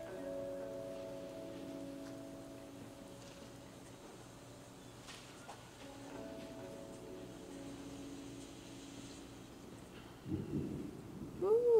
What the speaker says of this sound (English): Ooh, there's that thunder.